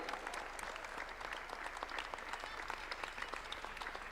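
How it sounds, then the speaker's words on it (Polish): An audience applauds steadily at the finals of a Polish barista and Coffee in Good Spirits championship, giving a dense, even stretch of clapping heard from some distance and fairly faint. "Bardzo wielkie brawa."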